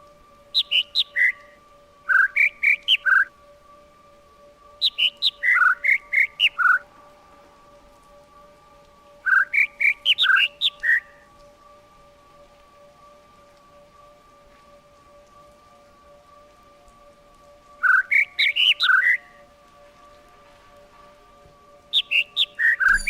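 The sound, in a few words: birds chirping in the video game The Witness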